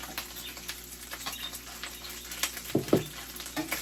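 Fried rice sizzles steadily in an oiled pan, with the heat turned down and the scrambled egg added back in; a couple of soft thumps and a brief stir stand out near the end, with no talking.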